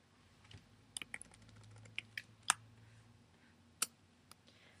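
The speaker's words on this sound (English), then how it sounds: "I can use the keyboard shortcut Command-C to copy it" Quiet, sparse computer keyboard clicks and key taps during drawing-software work, a few isolated sharp presses and short bursts close by over a faint room hum, with no talking.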